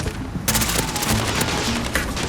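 Sustained AS VAL suppressed rifle fire from Call of Duty: Modern Warfare multiplayer, a dense loud burst of rapid shots starting after a brief quiet moment and continuing steadily to the end.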